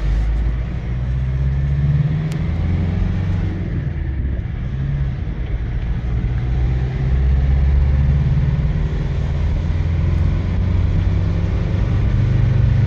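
A heavy 4,200 kg GAZelle NEXT bus engine pulls hard with its turbo kicking in, a steady mid-pitched drone rising and swelling in loudness as it accelerates, heard close from inside without talk.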